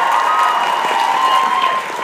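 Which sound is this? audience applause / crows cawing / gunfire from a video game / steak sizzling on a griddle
audience applause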